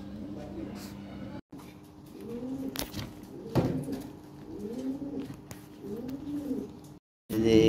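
Lahori pigeons, a milk bar pair among them, coo in repeated low rolling phrases, four or five close together, with people talking intermittently in the background and a brief break in the sound.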